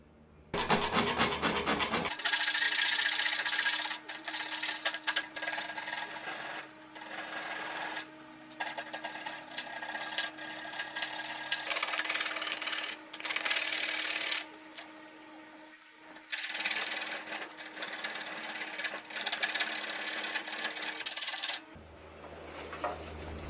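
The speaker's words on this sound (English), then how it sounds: "Once marked, I file on those areas to get the clearance I need." Hand filing on the metal slots of a band saw motor mount gives a steady, close rasping in repeated long bursts, separated by short pauses, with no talking.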